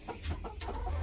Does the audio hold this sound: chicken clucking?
yes